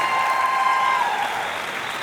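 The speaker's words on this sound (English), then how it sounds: "another round of applause." A concert hall audience claps at a university symphony orchestra showcase, a loud, sustained burst of applause with a faint held tone running beneath it, easing slightly toward the end.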